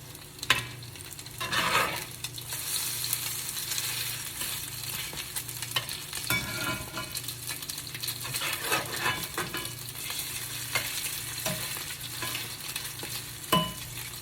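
Salmon croquettes fry in a pan with a continuous moderate sizzle, and a few soft scrapes and taps of a utensil come through now and then. No one speaks.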